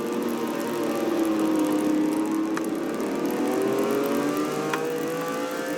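Race cars at the Red Bull SuperCar Tour in Clark, engines revving and whining as they pull through and out of corners, rising and falling pitch of a close pack, loud and continuous.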